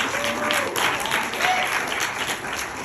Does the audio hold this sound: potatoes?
no